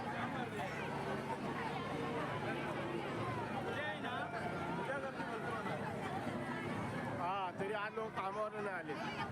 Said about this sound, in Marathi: खूप गर्दी होतं तिथं बघा